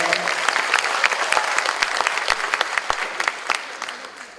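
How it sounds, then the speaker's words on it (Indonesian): Audience applause at a stand-up comedy show, a full round of many people clapping close and steady, easing slightly toward the end. "Tepuk tangan dulu untuk perempuan-perempuan."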